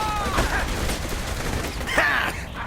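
Gunfire from the PC game Saints Row The Third, a dense fusillade of shots running continuously under game voices and effects at steady loudness.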